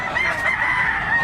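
A native rooster crows nearby in one sustained, strained call over a busy background, with no talking in between.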